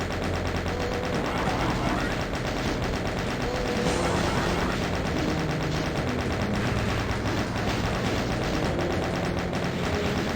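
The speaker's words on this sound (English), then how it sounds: "Now we can use the chain gun to deal with these enemies down here" Chaingun in Doom 64 firing at enemies, a continuous rapid rattle of shots running the whole time against game noise, with a voice speaking faintly underneath.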